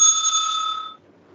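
A debate timekeeper's bell is struck once, giving a single bright metallic ring that sustains for under a second before fading to quiet.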